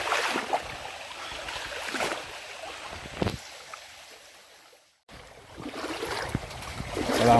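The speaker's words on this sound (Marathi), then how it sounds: "मोठ्या पाण्यातून चाललो आहे पाणी पण बघा पाण्याचा प्रवाह पण एकदम शांत" Legs wade through calm river water at evening, producing soft sloshing swishes with a steady watery wash, broken by a short near-silent pause before the sloshing resumes close by.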